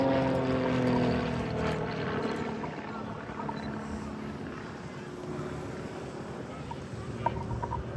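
Grob Tutor propeller aircraft performing an oblique loop in a flying display at RAF Cosford, a steady engine drone with shifting pitch heard from a distance and holding fairly even throughout.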